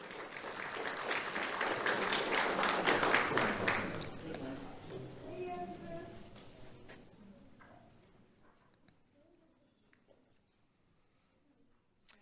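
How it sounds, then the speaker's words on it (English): An audience claps at a sheriff's office youth awards ceremony, a moderate wash of many hands that swells, then thins and fades away to near silence, with a brief voice in the middle. "Let's have a round of applause for Marisol Bernardino."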